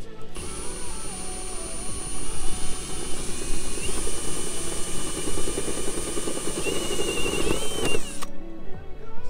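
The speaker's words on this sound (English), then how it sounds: "we got our 1-inch hole drilled in the corner of the closet" Power drill boring a 1-inch hole into the corner of a closet in a Lance cabover camper, a steady loud whirring grind for about eight seconds that stops abruptly.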